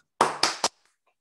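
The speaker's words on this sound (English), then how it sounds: "let us all give Father Andrew Dalton a round of applause and a very warm welcome" Three sharp, loud handclaps ring out in quick succession at an Easter Vigil gathering, then silence follows.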